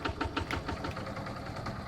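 A micro tractor in Farming Simulator 22 idles at a low, steady pulse, faint and unbroken throughout.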